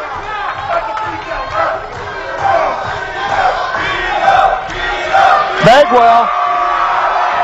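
A wrestling arena crowd roars and cheers loudly and continuously throughout, under a commentator's voice talking over the action.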